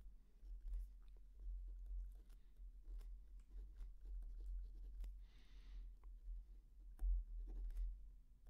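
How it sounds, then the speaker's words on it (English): Pen drawing lines on paper while working a moles calculation, soft scratchy strokes in short bursts over a low steady hum. "if I just draw a line here and a line here"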